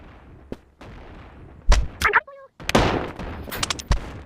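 Shotgun blasts in the VR game Animal Company, several sharp, loud bursts at irregular intervals, mixed with brief tonal game effects and short stretches of quiet.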